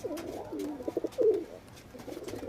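Pigeons cooing close by as they are released, a run of soft, throaty coos repeating unevenly over a couple of seconds with no voices.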